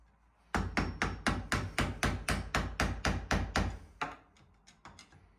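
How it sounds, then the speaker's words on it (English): Sharp hammer blows tapping a screwdriver to tighten the concealing nut on a Roper Rhodes Tavistock thermostatic shower cartridge: about fourteen evenly spaced, loud metallic strikes close by, followed by a few fainter taps. "With a hammer and screwdriver."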